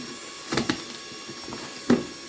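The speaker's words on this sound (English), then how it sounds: "Let me cut this off here with my master scissors." A few sharp snips of scissors cutting through packaging, spaced irregularly against a quiet background.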